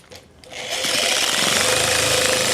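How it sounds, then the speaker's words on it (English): Tango 360 power sander spinning up after a quiet start, a loud, dense, continuous buzzing grind that settles into a steady level close by. "This is the Tango 360. You're letting the power tool send the stroke right here."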